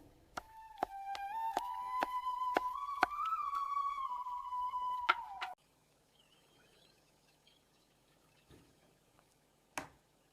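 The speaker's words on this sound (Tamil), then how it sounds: "வெங்காயத்தை நல்லா நறுக்கணும்," Knife chopping onions on a board, about nine sharp, unevenly spaced strikes over a steady tone, then near quiet with two isolated knocks.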